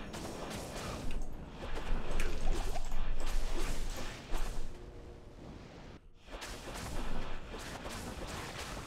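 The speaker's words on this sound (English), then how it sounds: "Big explosion." Big explosion in the video game Diablo 2 erupts in a dense, loud, roaring blast with rumbling, crackling aftershocks, mixed with continuous busy game effects, dropping out briefly before resuming.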